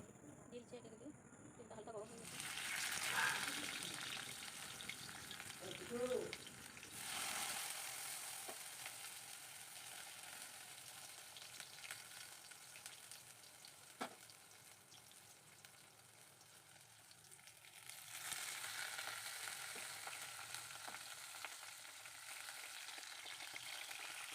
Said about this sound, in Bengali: এখন কড়াইতে তেল দিয়ে এটা একটু হালকা আঁচে ভেজে নেব